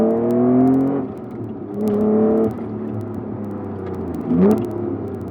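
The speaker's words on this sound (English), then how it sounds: "There's a tad of supercharger whine, but it's not intrusive. It's still got that high revving VTEC howl." A supercharged Honda NSX VTEC engine revs hard from inside the cabin, with rising howls and faint supercharger whine, then lifts off between pulls and blips on a downshift.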